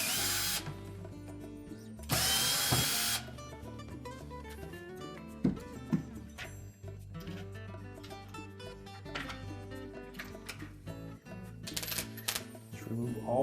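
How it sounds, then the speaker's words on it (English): A power driver spinning out number 20 Torx screws from the accumulator on a Whirlpool dishwasher pump, with bursts of loud whirring, ratcheting clicks and clattering handling noises close by throughout. "Next we'll remove the 4 screws that secure that accumulator to the pump body."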